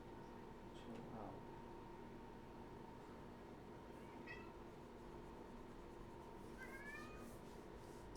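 A cat meows and yowls at a distance, with a few short cries scattered over a faint, constant background hum in an indoor room, and no talking.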